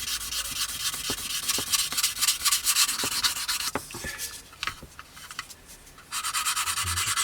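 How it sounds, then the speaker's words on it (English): Sanding a plastic Tamiya 1/48 Beaufighter model kit's underside with light pressure: close, steady raspy rubbing strokes that pause briefly and resume, with small scratches and taps, and no talking. "So just light pressure on the sander"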